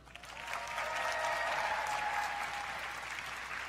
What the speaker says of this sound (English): let's give a round of applause for the president of the Miss Universe organization, Paula Shugart